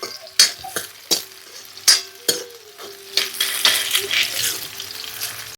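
Chopped onion frying and sizzling in a pan while being stirred, with a run of sharp scraping and clinking strokes early on, then a steady close sizzle with softer stirring; no talking.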